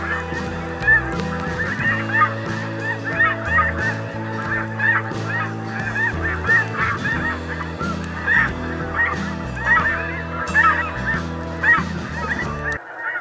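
Spring snow geese in North Dakota honking repeatedly in a busy flock, overlapping loud calls in uneven bursts, some near and some farther off, with no talking.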